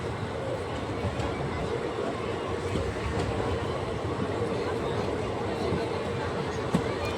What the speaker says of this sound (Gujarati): ટ્રેન કુકાવામાં એન્ટર થાય છે